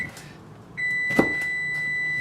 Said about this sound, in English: And that timer means that my rice is done.